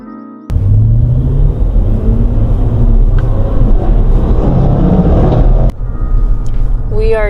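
A car drives along Sunset Boulevard in Los Angeles, a steady, loud low road-and-engine rumble heard from inside the cabin with a couple of abrupt breaks.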